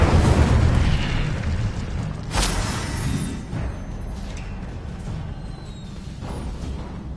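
A fire spell explodes in a video game, a loud, sustained fiery boom with a roaring burst that swells near the start and rumbles on throughout.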